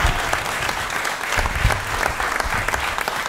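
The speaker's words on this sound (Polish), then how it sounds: "Przywitajcie go wielkimi brawami, takimi bardzo mocnymi" A stand-up comedy audience gives loud, dense applause as the comedian is welcomed to the stage, a steady roar of hands filling the room without a break.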